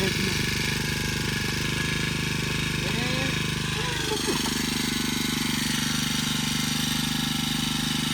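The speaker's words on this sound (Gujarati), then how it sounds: "ઘણા સમય પછી આપણે આપણું ટ્રેક્ટર પાછું ચાલુ કર્યું છે" A farm tractor, restarted after a long idle period, runs with a loud, steady, close engine drone and a dense mechanical rattle that stays constant throughout.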